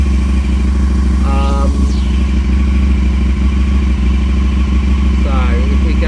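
An Aprilia Caponord motorcycle engine idles loudly and steadily nearby, with a constant mechanical drone throughout and a couple of faint chirps over it.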